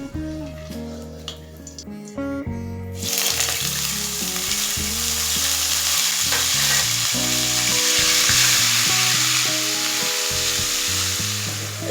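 Onion paste hitting hot oil with whole garam masala spices in a pan for chicken kofta curry, a loud continuous sizzle and crackle that bursts up suddenly and holds steady at close range, with no talk.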